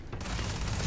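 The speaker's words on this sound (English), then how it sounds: "let's try out that laser pistol" A laser pistol fires in a video game with a sudden burst of sharp, crackling shots that begin abruptly and then continue as a loud, dense rattle of rapid fire.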